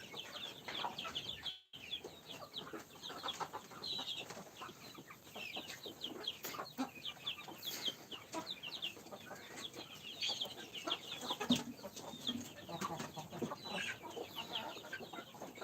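Chickens and chicks cluck and peep busily while eating feed on a poultry farm, a dense, continuous chorus of many birds, fairly faint, with scattered sharper calls and no voices.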